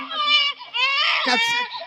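A baby's crying wails out loud and close in a Hindi folk-theatre nautanki performance, rising and falling in sobbing bursts with a short break between cries.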